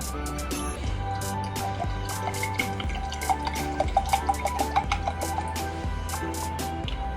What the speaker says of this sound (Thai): หลังจากนั้นนะคะเราจะเทน้ำฝรั่งดอยคำลงไปนะคะ